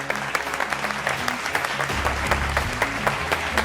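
A studio audience applauds the guests, Usama Aslam and Abiha Naqvi, with steady, close clapping over a low music bed and no speech.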